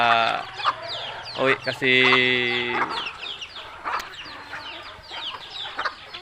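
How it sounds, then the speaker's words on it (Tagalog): Backyard chickens clucking and calling close by in front of a house, a few loud, drawn-out clucks and squawks among busier chatter, with a person speaking briefly over them. "Yung ibang alaga natin na mga manok mga katropa"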